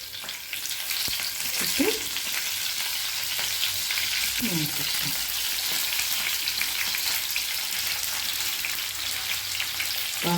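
Sankara fish fries in hot oil with curry leaves, giving a loud, steady sizzle that fills the whole stretch. A voice briefly speaks over the crackling.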